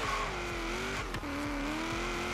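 A car engine in Forza Horizon 3 drones steadily and loud throughout, its pitch rising and holding in a sustained acceleration, with no talking over it.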